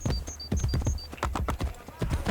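A horse gallops in Assassin's Creed Brotherhood, with rapid, loud, close hoofbeats in a quick rhythm, high electronic tones near the start and speech over the top.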